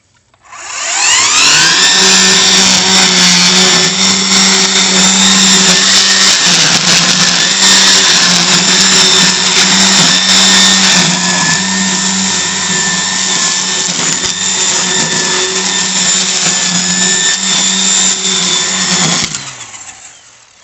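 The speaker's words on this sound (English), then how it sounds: "Back on the trimmer." A string trimmer edging a lawn runs steadily and loud for nearly the whole stretch, its whining engine holding a constant pitch before cutting off near the end, with no talking.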